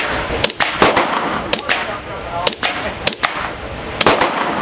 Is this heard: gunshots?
yes